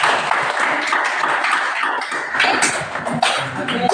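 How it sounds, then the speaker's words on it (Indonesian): Audience clapping hands in a school classroom session, a dense continuous patter of many claps held at a steady level from start to finish, with a few sharper claps standing out. "tepuk tangan"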